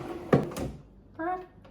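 A cabinet drawer is slid into place during a kitchen cabinetry installation, giving a short close knock and a brief scrape, followed by a short voiced sound.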